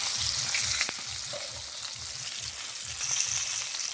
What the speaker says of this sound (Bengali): মাছগুলো সুন্দরভাবে ভাজা হয়ে গেছে